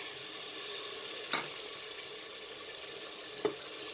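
Spices sizzle and fry gently in a pan for a meat and green bean curry, a soft steady crackle with two light clinks of a spoon against the pan.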